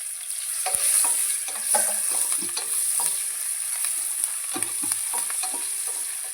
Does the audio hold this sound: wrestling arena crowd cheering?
no